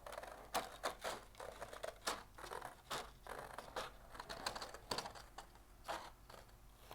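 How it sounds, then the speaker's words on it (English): Scissors cut slowly around a drawn line on a sheet of paper during a children's art lesson, making a series of soft snips and crinkles at a quiet, close distance with no talking. "My helper hand is holding the paper tight while I carefully move my scissors around"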